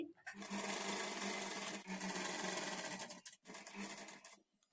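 A sewing machine runs double stitching along a blouse sleeve, a steady close whirring hum that pauses briefly near the end before a short final burst.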